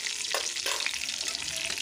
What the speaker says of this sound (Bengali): এবার ফোড়নটাকে একটু ভেজে নেব।